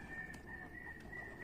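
A pigeon with something stuck in its throat, in a loft of birds unwell after rain, makes faint, strained throat sounds over a quiet, steady background hum.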